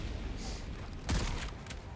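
Gunfire in the co-op shooter Helldivers 2 breaks out as a short burst of loud shots around the middle, rising over a noisy battle bed while players talk.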